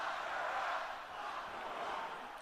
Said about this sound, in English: they're cheering Locker up, and he's just sort of prowling around on the stage